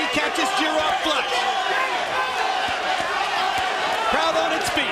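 Crowd at a small-venue professional boxing match between heavyweights roars and cheers continuously after a hard exchange of punches, dense and loud throughout with shouts rising near the end.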